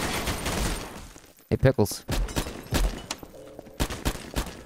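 Gunfire in Garry's Mod DarkRP, heard as a run of sharp, separate shots of varying loudness scattered across the clip, with gaps between them. People talk over the shooting.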